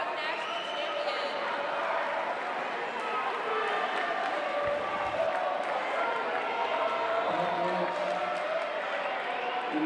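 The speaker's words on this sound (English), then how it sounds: "Can I have one more round of applause for your women's 100 backstroke national champion?" Applause and crowd noise fill an indoor natatorium at a national collegiate swimming championship, steady and moderately distant, with an announcer's voice over it.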